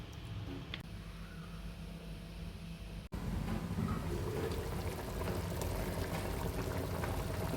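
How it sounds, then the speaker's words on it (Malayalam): Sunflower oil pours into a cooking pot during festive cooking; after a brief quiet start and a soft thud, a dense, steady low pouring rush fills the rest of the clip, close and without talk. "ഇതിലേക്ക് നമുക്ക് സൺഫ്ലവർ ഒഴിക്കാം കേട്ടോ എന്നിട്ട് നമുക്കിത് വേവിച്ചെടുക്കാം"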